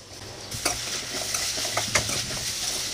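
Onion and tomato frying in a pan for palak paneer, a continuous close sizzle broken by several quick stirring scrapes and light clinks of a spoon against the pan.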